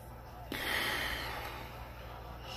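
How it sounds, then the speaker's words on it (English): A person breathes hard in and out through the nose, giving one sharp, close snort-like inhale followed by a long, steady, breathy exhale. "I keep on breathing out and breathing in hard from my nose"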